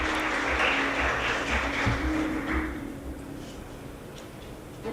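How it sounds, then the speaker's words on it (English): Audience at the opening of an international symposium on traditional medicine giving a round of applause, steady hall clapping with a low background hum that fades out after about three seconds. "Please welcome with a big round of applause."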